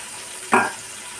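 Chicken meat drops into a frying tomato-onion masala, a single sudden close burst of sizzling that swells and fades within about a quarter second over a quiet background hiss, no voices.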